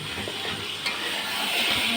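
Food sizzles in a pan while it is stirred and cooked down, a continuous close frying hiss with soft scraping, one brief clink and a slight swell toward the end, with no talk.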